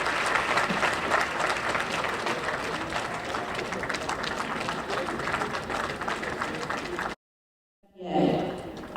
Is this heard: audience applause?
yes